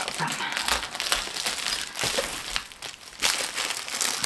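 Scissors cutting through the plastic wrapping of new, flat-packed pillows, a run of close crinkling and crunching plastic sounds with sharper snips, fairly loud and continuous for a few seconds with no talk.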